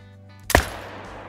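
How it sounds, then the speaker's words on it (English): A single sharp rifle shot from a .308 AR in a hunting video game, loud and close, with a brief decaying tail afterward over a low steady game ambience. "First shot with the 308."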